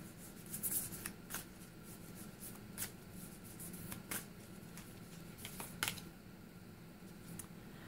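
Angels and Ancestors oracle cards are shuffled by hand for a reading, giving soft, quiet riffling with a few sharper snaps and taps in an otherwise calm room.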